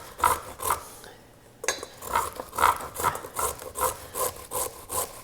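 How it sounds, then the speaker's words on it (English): Carrots scraped over a kitchen grater in steady back-and-forth strokes, a rhythmic rasping close by with a brief pause partway through. "I have plenty of safety in between me and the grating."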